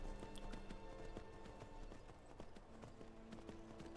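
Rapid hoofbeats of a horse in Skyrim, a steady galloping clip-clop of sharp taps over low background ambience, fairly quiet and continuous.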